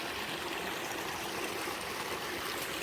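Water runs steadily while a garden pond with a waterfall fills, giving a continuous, fairly faint rushing trickle with no breaks and no voices.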